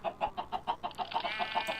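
Chickens cluck in Minecraft with the Thaumcraft modpack, a rapid steady run of close, even clucks that ends in a longer drawn-out call, with no talking over them.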